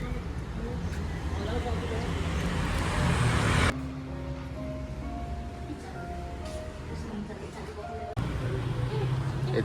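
Loud traffic rumble on a busy side street in Bali, with car and motorbike engines passing nearby, steady and dense throughout, with people talking underneath.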